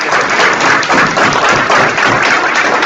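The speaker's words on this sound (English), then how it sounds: "All right, give them a round of applause." Audience applause at a young Democrats membership meeting with a women's panel: steady, dense clapping from a roomful of people, fairly loud and close, holding evenly for about three seconds with no talk.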